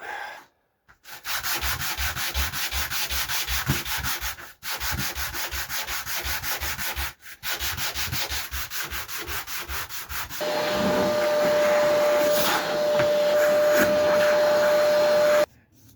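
Close, loud scraping of a sanding block on wooden drum finish sample panels, long runs of fast, even strokes broken by brief pauses, then a smoother continuous rasping toward the end.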